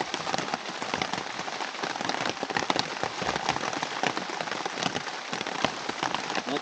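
Steady rain patters on a tarp over a campsite in Bald Eagle State Forest on a cold morning, a dense continuous drumming of drops that stays even and fairly loud throughout, with no voices.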